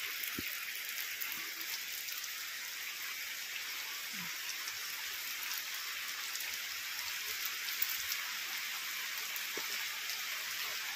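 Steady monsoon rain from a low-pressure system hissing continuously across the whole stretch, with a few faint drips and taps standing out, no voices.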